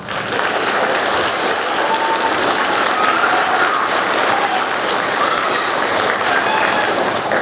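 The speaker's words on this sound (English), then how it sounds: "Let's give them one more round of applause." An audience at a sixth-grade school awards ceremony gives the students another round of applause, a loud, steady, dense patter of clapping with voices mixed in throughout.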